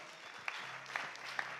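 An audience applauds a Public Relations Unit media relations officer at a World Youth Skills Day event, the clapping steady and crowd-wide, with a few sharper claps near the front.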